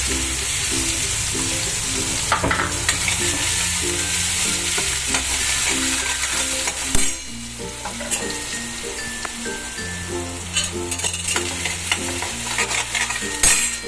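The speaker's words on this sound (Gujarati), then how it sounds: "તો આપણે એમાં હિંગ નાખશું અને ડુંગળી વઘારશું।" Asafoetida and onion crackle in about two spoons of hot oil while cooking a kachchhi dabeli filling, a steady close sizzle running the whole time beneath looping background music.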